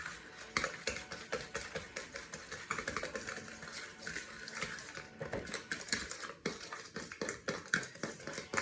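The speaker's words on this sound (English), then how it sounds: "So just go ahead and whisk them up" A fork rapidly whisks eggs in a bowl, giving quick, continuous clinking and scraping taps against the bowl's sides at a fairly close distance.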